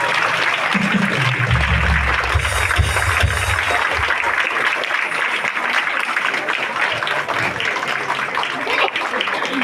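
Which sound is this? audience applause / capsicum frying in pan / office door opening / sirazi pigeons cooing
audience applause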